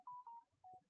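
A mobile phone chirps a short electronic tone sequence, three clear beeps close by in a quiet room, with no speech.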